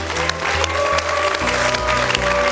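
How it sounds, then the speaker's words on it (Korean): An audience at a lecture-style talk show claps in a dense, sustained burst, loud and close, with a low musical hum running beneath the applause. "오늘 멋진 강연 들려주신 우리 김진명 작가님께도 박수 부탁드리겠습니다"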